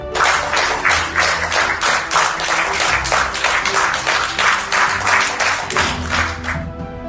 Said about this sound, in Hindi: केंद्रीय मंत्रियों ने पीएम मोदी के स्वागत में खड़े होकर तालियां बजाते हुए